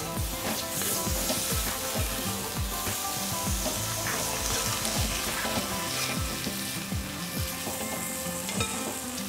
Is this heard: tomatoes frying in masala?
yes